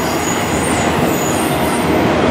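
A Norfolk Southern freight train hauling autoracks rolls past at Spartanburg while slowing, a loud, steady close rumble of wagons with faint wheel squeal and no talk.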